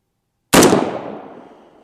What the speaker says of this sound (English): Let's shoot another one with the 458 SOCOM.